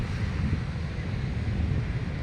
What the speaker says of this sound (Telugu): సముద్రపు అలలు దూసుకుంటూ వస్తున్నాం